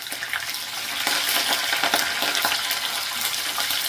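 Mustard seeds, curry leaves and green chillies fry in hot oil for a capsicum curry, giving a loud, steady, crackling sizzle with scattered pops and no talking.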